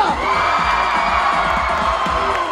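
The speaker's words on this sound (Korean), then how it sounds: "박수와 소리 한 번만 질러봅시다" An audience at a live stage show of the ballet-and-b-boy musical cheers, shouts and applauds in a dense, loud, continuous roar with scattered whoops.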